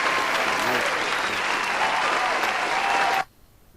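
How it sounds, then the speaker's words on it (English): A dense, steady round of applause from an audience fills the space for about three seconds, loud and continuous, then cuts off abruptly into near silence. "you deserve to give yourselves a round of applause."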